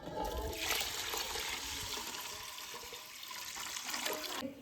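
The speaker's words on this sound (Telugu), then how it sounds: "అండ్ ఈ నీళ్ళైతే చెట్లకైతే పారబోస్తున్నాం" Rice-washing water poured out onto plants in a village yard, a continuous close splashing rush that runs for several seconds before cutting off.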